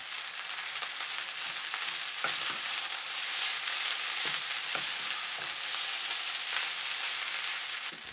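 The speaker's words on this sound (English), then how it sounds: "fry for 1 minute so that all the tastes combine" Soy sauce fried rice with egg sizzles steadily in a pan, a dense continuous frying hiss broken by faint scrapes of stirring, close and alone with no voices.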